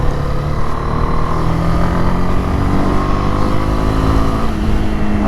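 Honda CB300R motorcycle accelerating in fourth gear, a loud, steady engine drone with rising harmonics, heard from the rider's position with wind noise and no speech.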